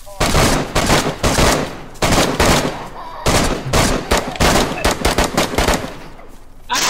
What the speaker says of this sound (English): Yeah, he shot me!